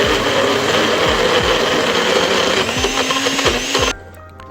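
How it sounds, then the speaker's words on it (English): A blender whirs loudly, blitzing chopped flathead fish with sunflower oil, its motor pitch swooping as the load shifts, then cutting off abruptly near the end. "So I just chopped up the flathead, blitzed it with a little bit of sunflower oil."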